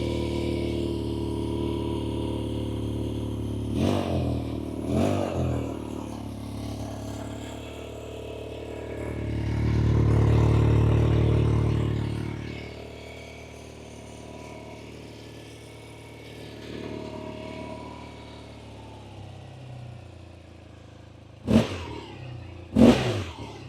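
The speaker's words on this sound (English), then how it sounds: "See how the bike goes towards the right when you rev it up?" A BMW R12 G/S boxer-twin motorcycle idles steadily, then revs up in one long swelling rise and falls back to idle, followed by a couple of sharp blips near the end.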